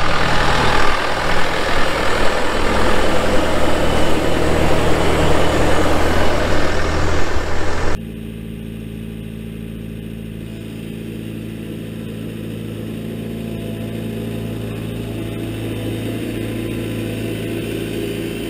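A Toolcat utility vehicle engine, stuck in half an inch of snow, roars steadily at high revs for several seconds, then drops abruptly to a quieter, rumbling idle that continues to the end.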